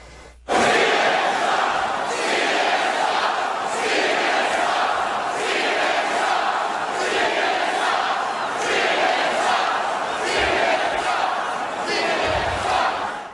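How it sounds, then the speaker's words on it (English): A large crowd at a Trump rally chants in loud, rhythmic bursts, many voices shouting together in a steady repeating cadence that fills the space for the whole stretch before cutting off. "crowds at the Trump rally, like we saw last night, hey, Don, hey, Jeff Zucker, they were chanting at you"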